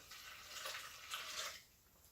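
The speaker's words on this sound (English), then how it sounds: "Now you are going to add your cup of warm water." A cup of warm water pours into focaccia dough in a faint, splashy stream that swells twice and then tapers off.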